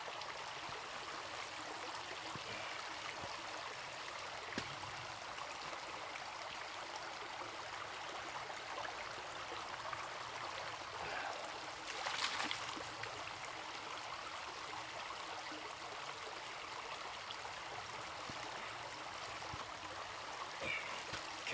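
A woodland stream trickles and burbles steadily in the West Virginia wilderness while a Vecto 2-liter water bag is filled, with a brief louder splash partway through.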